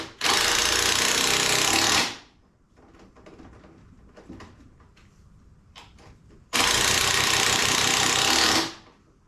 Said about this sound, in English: Just got to be careful that we don't overdo this with these drivers, because it's easy to strip all these type of screws out.